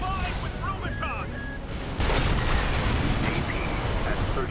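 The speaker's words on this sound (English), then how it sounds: "There's heavy fire coming from up top." Heavy gunfire and explosions in the mech combat game Armored Core VI, a dense continuous barrage that swells louder about halfway through, with a voice speaking over the early part.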